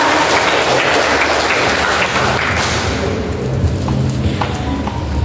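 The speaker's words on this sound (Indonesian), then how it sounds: "Aplaus dulu untuk mereka." Audience applause for the competing teams fills a school quiz final: a dense burst of many hands clapping together that slowly thins and fades over a few seconds, with scattered claps left near the end and no talking.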